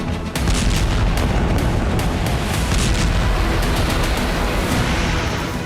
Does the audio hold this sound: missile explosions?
yes